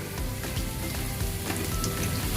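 Four or five cloves of chopped garlic frying in hot oil for an egg and chana dal dish, giving a steady, close crackling sizzle with no voices.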